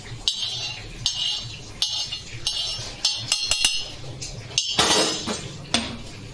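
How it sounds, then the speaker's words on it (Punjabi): Roasted cumin is crushed in a small mortar and pestle, with sharp, irregular clinks and knocks of the pestle striking close up, some louder grinding strokes, and no one speaking. "ਤਾਜ਼ਾ ਹੀ ਭੁੰਨ ਕੇ ਤਾਜ਼ਾ ਹੀ ਪੀਸ ਕੇ ਕੁੱਟ ਕੇ ਪਾਇਓ ਤੇ ਆਪਾਂ ਇਹ ਕੁੱਟਣੀ ਚ ਆ ਛੋਟੀ ਜੀ ਕੁੱਟਣੀ ਹੈ ਇਹਦੇ ਵਿੱਚ ਇਹਨੂੰ ਰਗੜ ਲੰਗੇ"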